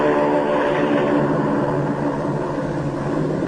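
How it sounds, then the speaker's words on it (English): A big PBM flying boat roars through its takeoff run on the water, jet assist bottles blasting, a dense, steady, loud engine-and-rocket rumble with no break. "On the water, the great PBM makes her takeoff run. Her jet assist bottles blast."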